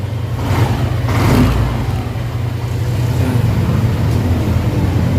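A Yamaha NMAX V2 scooter engine, after a fuel pump assembly replacement, catches on one press of the starter and runs, revving briefly before settling into a steady, loud idle rumble.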